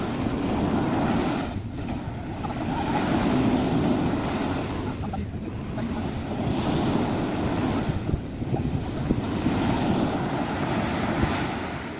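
Ocean surf rolling onto Kuta Beach in Bali, a steady wash of breaking waves with wind buffeting the microphone throughout, continuous and fairly close with no talking.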